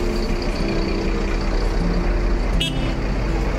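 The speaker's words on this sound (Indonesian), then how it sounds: "klaksonnya masih seperti klakson motor" A Minang intercity bus at Kampung Rambutan terminal gives a short, thin horn toot like a motorbike horn over loud idling engine rumble and terminal noise.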